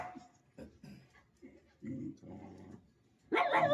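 A dog whimpers and gives several short, low barks and growly yips in irregular bursts, close but fairly quiet, ending in a louder sharp yelp.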